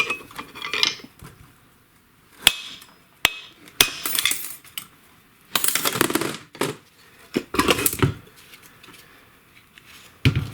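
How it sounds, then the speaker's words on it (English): Sharp metallic hammer strikes ring out against the crankshaft of a Briggs & Stratton snowblower engine to free the flywheel, scattered loud clanks separated by clattering and rustling of tools in a workshop. "What I'm going to do here is just hit it with a hammer."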